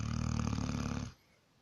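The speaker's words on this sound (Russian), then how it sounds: "Эй, морда, хватит храпеть." A dog snores in a deep, rattling, grunting rhythm, close and fairly quiet, then stops abruptly, leaving near silence.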